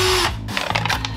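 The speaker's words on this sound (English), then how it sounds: "I'm actually gonna hold this as I'm drilling the top so all the dust doesn't get all over the black." Power drill boring through the top of an entertainment center, a short burst of motor whine that breaks into rough, stuttering grinding as the bit cuts through, close and loud.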